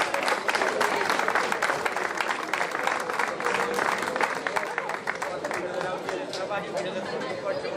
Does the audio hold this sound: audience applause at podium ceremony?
yes